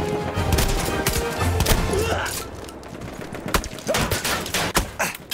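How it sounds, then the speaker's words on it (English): Machine gun fire in the World War 1 game Battlefield 1, Cape Helles beach landing, with dense rattling bursts and thuds throughout, loud and continuous under battlefield noise and some voices. "That's a machine gun."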